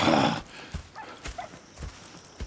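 Horse hooves in the video game Red Dead Redemption 2 clip-clop in a light, irregular patter with faint jingling, following a brief burst of louder noise at the start.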